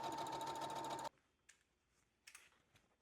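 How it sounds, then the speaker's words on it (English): A sewing machine runs in a fast, steady rhythmic whir while stitching a Valentine's Day dress, then stops after about a second, leaving a few faint handling taps. "let's get back to sewing."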